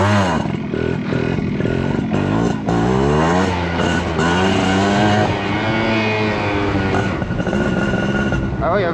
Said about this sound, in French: Moi c'est un petit wheeling au ralenti.